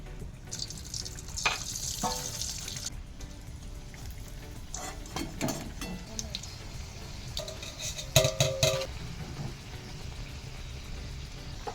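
Luchi frying in hot oil in a home kitchen, a soft continuous sizzle with scattered clatter of utensils and a brief burst of louder bubbling, fairly distant and faint, with no talk.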